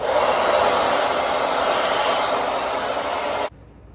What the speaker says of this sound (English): So now I'm gonna dry my forehead.